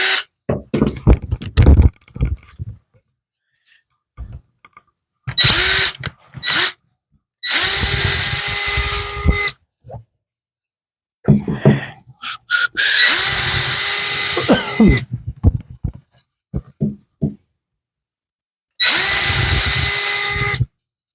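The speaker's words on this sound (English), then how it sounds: "I think I'm going to drill me a bigger hole." A power drill bores a bigger hole through a wooden bird nesting feeder, running in three sustained loud bursts of several seconds each, separated by shorter starts, handling knocks and pauses.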